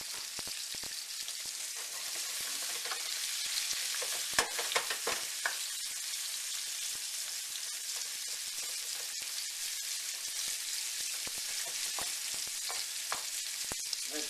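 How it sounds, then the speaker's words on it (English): Onions, bell peppers and garlic sautéing for a fajita mix, with a steady close sizzle, crackling pops and occasional stirring scrapes throughout, and no voices. "we're going to start sauteing some onions, bell peppers, and garlic"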